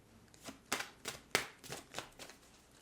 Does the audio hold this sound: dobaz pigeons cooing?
no